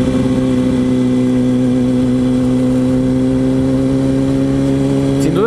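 A Yamaha YZF R1 sport motorcycle engine runs steadily with a loud, humming tone, then revs up sharply at the very end.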